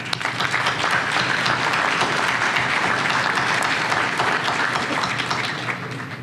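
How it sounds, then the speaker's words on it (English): A dinner audience at a county Republican Party Lincoln Reagan event breaks into sustained, dense applause, loud and close, holding steady for several seconds before starting to taper off. "And that's worth applauding."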